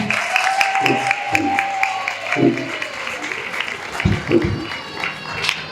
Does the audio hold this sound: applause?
yes